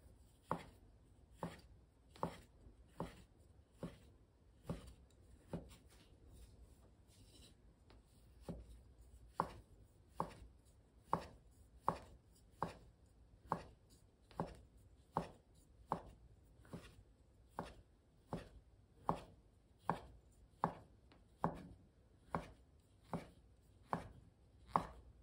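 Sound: knife chopping handmade kalguksu noodle dough

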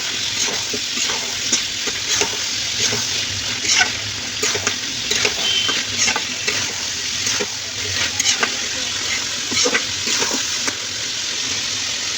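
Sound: pouring water into cooking meat

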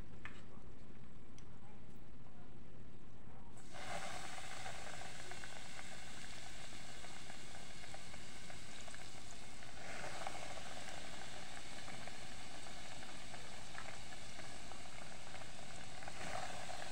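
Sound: chicken frying in hot oil for ayam geprek

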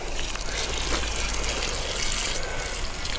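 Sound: water poured from a bucket onto a planted grape seedling

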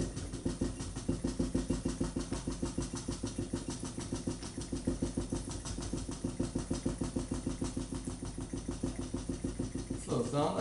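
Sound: free piston Stirling engine running

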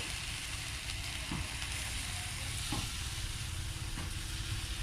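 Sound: takoyaki batter frying on hot pan

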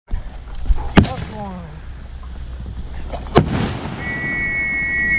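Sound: firework launched

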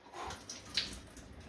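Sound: pouring ginger drink into a hand

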